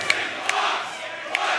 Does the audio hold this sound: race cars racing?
no